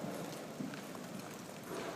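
A Shagya horse's hooves in a riding arena, soft, muffled clip-clop beats on footing, faint and steady beneath low ambient noise.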